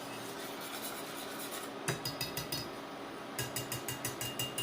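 A whisk knocks in quick rhythmic bursts against a pot holding melted sugar and cocoa. The metallic clatter comes close and clear, with a pause between two runs of strokes.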